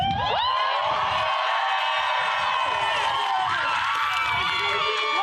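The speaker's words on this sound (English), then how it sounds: "Cheering, as you can see, hundreds of people there in that video." A crowd of hundreds cheers and whoops at the cancellation of a planned data center, with shouts and high voices rising over a steady roar of noise.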